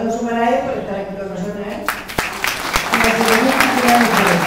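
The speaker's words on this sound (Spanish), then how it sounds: "un aplauso para él por estar aquí con" Applause from the audience for the mayor at the opening of a gastronomy festival, breaking out after a speaking voice and rising into a sustained crowd clap while talk continues over it.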